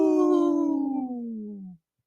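A person howls like a wolf in one long, clear, descending call that slides down in pitch and cuts off abruptly, close and alone, the voice imitating a wolf.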